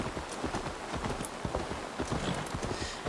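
Horse hooves clip-clopping at a steady walking pace in Assassin's Creed Valhalla, a continuous run of close, even hoofbeats on a path with faint ambient background.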